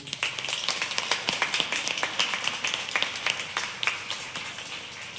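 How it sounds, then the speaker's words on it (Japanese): An audience claps after a tribute band's live performance at a concert hall, with crisp, distinct individual claps forming a steady, fairly close, moderately loud applause. "今一度大きな拍手"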